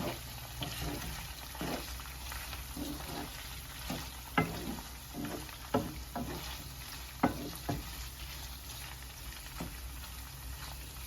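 Chicken pieces for chicken pickle fry in hot oil with a continuous crackling sizzle, broken by occasional stirring scrapes and clinks close by.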